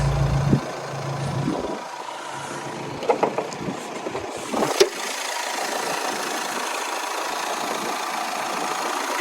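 An Audi A6 TDI diesel with 218,000 km runs at idle with the hood open, giving a steady, fairly quiet low rumble after a few brief clunks and knocks.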